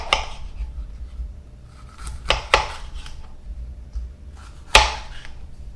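Knife chopping a bell pepper into quarters on a cutting board while preparing a vegetable gratin with chorizo, several sharp separate chops with quiet gaps between them, close and clear without talk.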